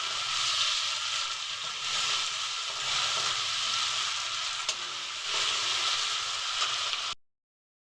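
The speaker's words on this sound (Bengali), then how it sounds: "দিয়ে ভালো করে মশলাটাকে ভাজবো যতক্ষণ না কাঁচা গন্ধটা চলে যায়।" Ginger-onion paste and spices fry in a pan, a loud continuous sizzle with stirring, close by and without speech, before stopping abruptly near the end.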